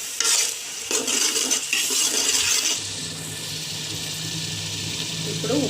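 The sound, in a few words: stirring tomato paste into prawn biryani masala in a pot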